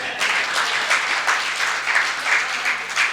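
An audience claps in sustained, steady applause after a Hindi comic poetry recital, a dense, even patter that holds at full loudness throughout with faint rhythmic pulses and no speech over it.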